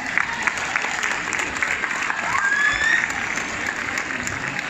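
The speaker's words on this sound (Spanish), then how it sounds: "den un fuerte aplauso si están vivos el día de hoy" An audience at a motivational conference applauds loudly and steadily, a dense wash of clapping with a few whistles and shouts mixed in throughout.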